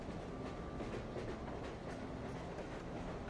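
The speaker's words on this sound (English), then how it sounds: "You can hear the relaxing sounds of the wheels turning along the tracks." Train wheels clack along the tracks under a wagon, a continuous rolling rumble with faint repeated clicks, steady and evenly loud throughout with no voices.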